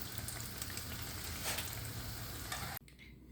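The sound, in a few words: pişi dough frying in hot oil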